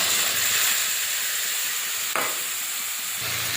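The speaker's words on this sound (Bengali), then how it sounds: "এবারে ভালো করে মশলাটা কষে নেব।" Ground spices with ginger, cumin, coriander, chili and turmeric sizzle steadily in hot oil in a pan, a loud continuous hiss with a brief stir clatter partway through.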